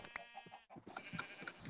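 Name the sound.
sheep bleating in a video game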